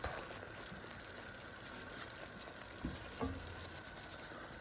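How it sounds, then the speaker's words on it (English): Cheese kottu fries and sizzles in a pan while being stirred, a constant soft crackle with a couple of brief scraping knocks from the utensil, fairly quiet and with no talking. "Stir it up."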